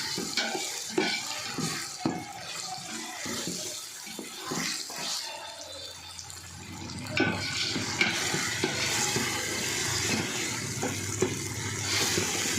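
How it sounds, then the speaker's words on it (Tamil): Ginger, garlic, green chili and onion being sautéed and stirred in a pan for mutton biryani, a steady soft sizzle with scraping stirs, clattering at first and then settling into a continuous frying hiss. "இஞ்சி பூண்டு இந்த பச்சை மிளகா வெங்காயத்தோடு ஒன்று சேர்கிற மாதிரி நல்லா மிக்ஸ் பண்ணிவிட்டு நல்லா வதக்கிக்கலாம்."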